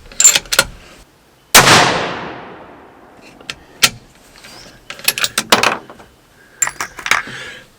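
A single sharp report from a Tikka T3X Custom rifle in 22-250 firing a 55 grain Sierra GameKing from a 26-inch barrel, with a long decaying echo, surrounded by small clicks and metallic handling noises.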